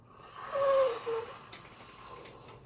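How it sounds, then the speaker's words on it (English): A person yawns once, a drawn-out breathy, wheezing exhale that rises and fades, close and fairly loud in an otherwise quiet indoor setting. "Stop yawning."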